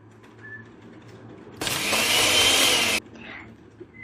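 A household kitchen blender runs loud and steady for about a second and a half, starting and stopping abruptly, with quiet surroundings before and after.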